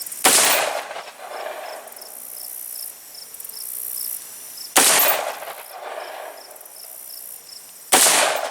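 Three loud rifle gunshots while bore sighting at a range, evenly spaced, each a sharp crack with a short ringing decay.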